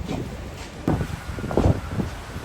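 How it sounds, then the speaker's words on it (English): Gusty wind on a cruise ship deck buffets the microphone with a low, rough roar that swells in a few stronger bursts and never lets up. "It's too windy."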